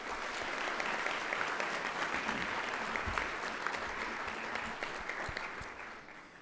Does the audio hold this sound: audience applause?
yes